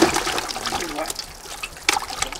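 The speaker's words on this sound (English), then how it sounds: "So now we put a little water in the bucket" Water splashes and trickles into a bucket outdoors during a trout stocking on a river, a steady wet pouring with a few brighter splashes near the end.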